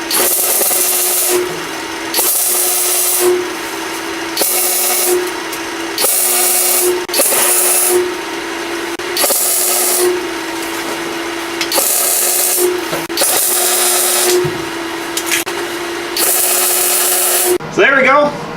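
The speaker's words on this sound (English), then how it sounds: "I'm gonna go ahead and start tacking them in. I can fish this welding torch over here." A welding torch tack-welds floor pieces on a car under restoration, loud hissing crackling bursts of about a second each repeating in a steady series with short pauses between them.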